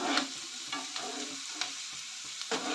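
Pesarattu curry ingredients fry in a pan, giving a close, continuous sizzle with occasional clinks and scrapes of a stirring spoon.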